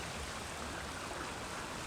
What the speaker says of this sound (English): Here's another waterfall that goes down towards, flows to the other two